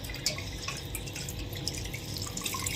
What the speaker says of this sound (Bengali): আমি এবার জল দিয়ে একটু ধুয়ে নেবো ছানাটাকে